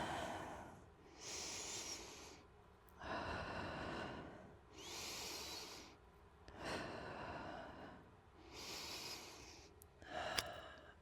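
Slow, deep breaths during an Ashtanga yoga pose, roughly five long inhale-exhale cycles with audible airy rushes and brief pauses between, close and clear with no talking.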